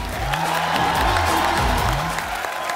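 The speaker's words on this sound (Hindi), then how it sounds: "आपकी जोरदार तालियों के बीच स्वागत करना चाहूंगा मिस्टर रणदीप हुड्डा का" A studio audience claps and cheers loudly to welcome actor Randeep Hooda onto a Hindi TV show stage, with dense, steady applause, whoops and shouts filling the whole stretch, while music plays underneath.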